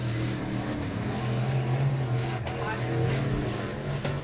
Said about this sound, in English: sound like the carburetor demons are back in the 88 car